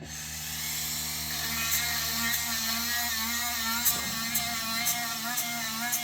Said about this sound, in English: I've got this cordless Dremel here that I use to deburr the inside of this.